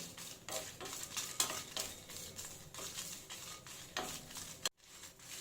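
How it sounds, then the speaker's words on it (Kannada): Curry leaves go into hot oil in a pan and sizzle softly while a spoon stirs them, giving repeated scraping strokes and light clinks over a faint steady frying hiss, with a sudden brief drop near the end. "ಈಗ ಕರಿಬೇವಿನ ಸೊಪ್ಪು ಹಾಕೋತಾ ಇದ್ದೀನಿ"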